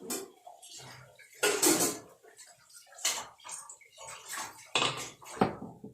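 A metal cooking pot for moru curry, a buttermilk curry, is set onto a home kitchen stove: several sharp clanks and clatters of metal against metal, close and fairly quiet, with brief pauses between knocks.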